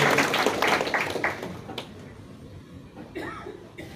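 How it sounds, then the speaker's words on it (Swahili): Applause from a church congregation honoring Pastor Ann, a dense burst of clapping that fades out over a few seconds, with scattered voices and a brief cough near the end. "Pigia mchungaji Ann makofi mazuri."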